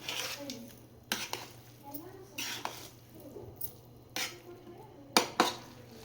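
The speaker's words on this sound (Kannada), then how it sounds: "ಈಗ ಬಿರಿಯಾನಿ ರೆಡಿ ಆಗಿದೆ, ಮಿಕ್ಸ್ ಮಾಡ್ಕೊಳ್ಳೋಣ." Chicken biryani being stirred and mixed in a pressure cooker, with scattered scraping clinks of a spoon against the metal pot, a few sharper knocks near the end, and a faint steady hum beneath.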